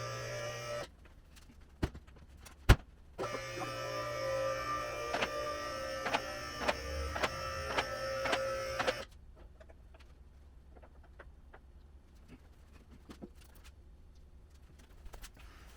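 An electric car lift raises a Ford Falcon in a home garage, giving a steady mechanical whir with tonal motor hum that runs for several seconds. Sharp clicks come before it, and the whir cuts off abruptly into quiet room tone.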